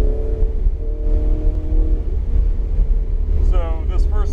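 A Ferrari 488 GTB pulls out of the pits on a race track under gentle throttle, its engine a steady low rumble that rises into a sharper rev near the end, with a driver speaking over it.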